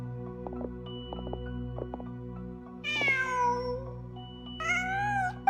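Two clear, close meows from a cat in Genshin Impact ring out over soft game music and light footsteps, the second higher and brighter.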